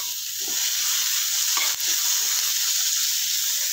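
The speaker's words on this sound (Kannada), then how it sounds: "ಈರುಳ್ಳಿ ಹಾಕ್ಕೊಳ್ಳಿ. ಎಣ್ಣೆ ಇನ್ನೊಂದು ಸ್ಪೂನ್ ಹಾಕ್ಕೊತೀನಿ. ಈರುಳ್ಳಿನೂ ಅಷ್ಟೇಪ್ಪ ರೋಸ್ಟ್ ಮಾಡಿ." Onions sizzle steadily in hot oil in a pan for a chutney, a constant bright frying hiss with a few soft stirring knocks and no voices.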